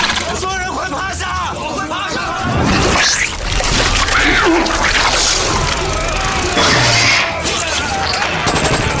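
Ripe jungle fruit bursts in a string of rapid, loud, crackling explosions in a monster thriller film, like scattered gunfire, mixed with shouting voices and rushing noise.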